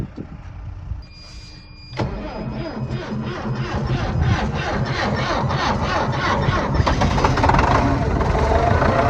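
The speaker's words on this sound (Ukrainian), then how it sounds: "Поганенько він заводиться, хоча й стартер Вале." A Dieci telehandler engine cranks with a struggling starter, then catches and runs, settling into a loud, steady rumble that continues to the end.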